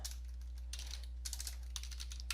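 Quick bursts of typing on a computer keyboard, a browser search being entered, soft clicking keystrokes close by over a steady low hum, no voices.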